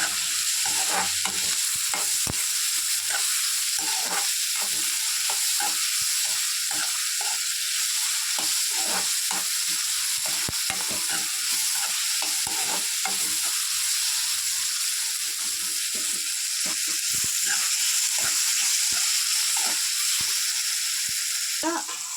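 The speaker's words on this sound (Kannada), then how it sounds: "ಬೀನ್ಸ್ ಮತ್ತು ಕ್ಯಾರೆಟ್ ಹಾಕ್ಕೊಂಡಿದ್ದೀನಿ. ಇದನ್ನು ಚೆನ್ನಾಗಿ ಮಿಕ್ಸ್ ಮಾಡ್ಕೊಳ್ಳಿ. ಇದನ್ನು ಒಂದು ಫ್ಯೂ ಮಿನಿಟ್ಸ್ ಹೀಗೆ ಫ್ರೈ ಮಾಡ್ಕೊಳ್ಳಿ" Beans and carrots with salt fry in a pan while being stirred, a loud continuous sizzle broken by rapid, repeated scraping and clattering of the spoon against the pan throughout.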